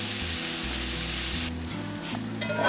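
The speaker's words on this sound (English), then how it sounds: "I'm just going to go ahead and cook these mushrooms up" Mushrooms sizzle steadily in a hot pan for a burger topping, a dense, even frying hiss close up with faint stirring near the end.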